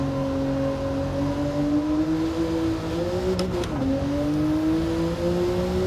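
A Porsche Carrera engine in Gran Turismo 7 holds a high, steady rev, its tone climbing slowly, dipping briefly and climbing again, loud and close throughout.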